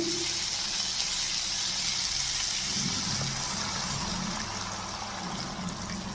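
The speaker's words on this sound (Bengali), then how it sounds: "এখন আমি জল দিয়ে দিচ্ছি" Water poured into a pan of vegetables and green peas frying for a vegetarian Bengali dish, a steady broadband hiss and trickle running continuously near the mic with no talking.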